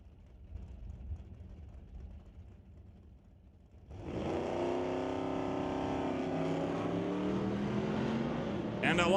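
Drag race launch between a 1997 Chevy pickup and a 1977 Nova on an eighth-mile strip: after quiet crowd murmur, loud engines roar up abruptly and hold a sustained, rising drone to the end.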